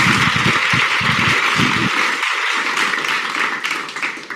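A studio audience at a live talk show applauds, a steady wash of many hands clapping that carries throughout and grows slightly thinner toward the end.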